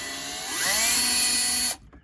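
A power tool whirs at high speed while backing bolts out of a Toyota dashboard, one short close burst that spins up and cuts off abruptly.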